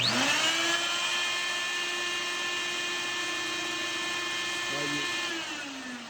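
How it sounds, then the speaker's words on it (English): A motor from an Electrolux vacuum cleaner, fitted to a hydrogen-powered turbojet, whines at a high, steady pitch with layered harmonic tones, holding constant before winding down near the end. "is actually the motor from an Electrolux vacuum cleaner"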